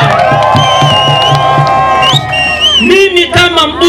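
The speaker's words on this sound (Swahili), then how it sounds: "Makofi kwa Samia." A crowd at a political rally for Samia cheers and shouts loudly, with sustained tonal calls, whoops and overlapping voices that rise into a burst of excited yelling near the end; clapping is not distinct.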